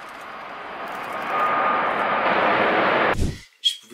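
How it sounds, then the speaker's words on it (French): Airplane flying overhead, a loud broadband roar that swells and holds steady for about three seconds before cutting off abruptly, followed by brief scattered noises. "Je pouvais tout simplement pas être dans l'avion et filmer l'avion."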